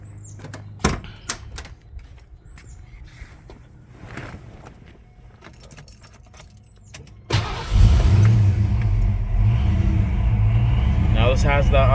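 A Foxbody Mustang convertible with a Vortech V2 supercharger, SCT tune, bigger mass airflow and 42-pound injectors cranks after a few clicks and fires right up into a loud, close, steady rumbling idle, with voices nearby.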